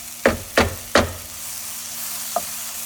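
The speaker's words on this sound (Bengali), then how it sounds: "পেঁয়াজ, আদা, রসুন, টমেটো সব মশলা দিয়ে এখন কষবো একটু" Onion, ginger, garlic and tomato masala being stir-fried for a dhaba-style egg tadka: three sharp, close scraping stirs in quick succession over a soft sizzle, then a lighter knock near the end, with no voices.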